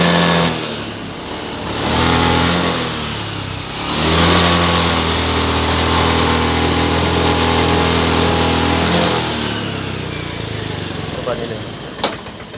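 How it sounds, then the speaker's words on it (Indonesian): A Honda Beat ESP scooter engine idles, then revs up in surges, the pitch rising and wavering unevenly as if about to stall, fairly loud and close. "Ini posisi digas, gasnya berubah, kadang suka mau mati sendiri."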